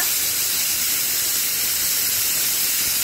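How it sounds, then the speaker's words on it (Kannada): A pressure cooker on a gas stove, cooking moong dal for a Mangalorean sweet, lets off a loud, steady rush of steam that hisses without a break for about three seconds, with no talking. "ಮುಚ್ಚಳವನ್ನು ಮುಚ್ಚಿ ವಿಸಿಲ್, 1-2 ವಿಸಿಲ್ ತೆಗೆದುಕೊಳ್ಳೋಣ"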